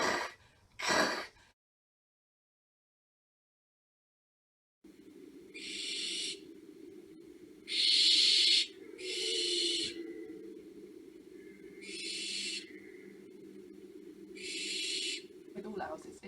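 An owl gives about five breathy, hissing calls spaced a second or two apart over a low steady hum, after a short silence.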